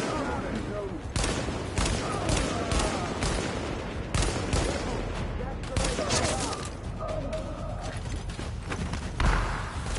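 A shotgun in The Division fired again and again in a steady run of loud blasts amid ongoing combat, with a voice talking over the shots.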